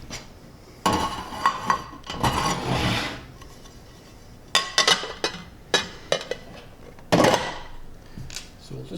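Old-fashioned spice cake turned out of a metal baking pan onto a plate, with clattering, scraping and knocking of pan and dishware in irregular bursts, close by.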